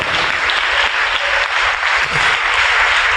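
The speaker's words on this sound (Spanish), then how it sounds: "Dele su ofrenda de palmas al Señor con todo su corazón" A church congregation at a Spanish-language sermon claps together, a dense, loud and steady wash of many hands that carries on without a break and with no talking.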